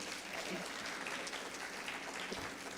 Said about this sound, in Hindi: मैं इन सब के लिए भी आपसे चाहूँगी एक बार तालियां बजाएं